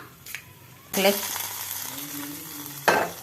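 Mustard seeds tempering in hot oil for coconut chutney, a sudden burst of sizzling and crackling that starts loud and settles into a steady fry, with a clatter near the end.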